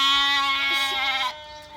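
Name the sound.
sheep bleating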